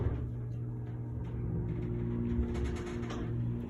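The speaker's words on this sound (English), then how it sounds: "Let's listen to the motor." Otis elevator motor running, a low, steady hum with tonal drones, faint and continuous throughout the ride.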